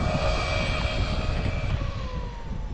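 A Traxxas Maxx V2 RC car on 4S power with 34/47 gearing runs at full throttle, giving a loud, steady high-pitched electric whine that holds nearly constant and then dips slightly in pitch near the end.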